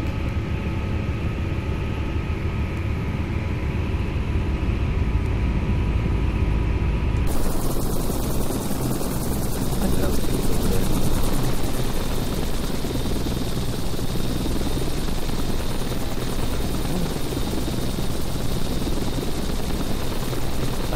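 In Microsoft Flight Simulator X, a helicopter's rotor and engine roar steadily and loudly throughout, the tone shifting partway through as the craft changes speed, with no voices.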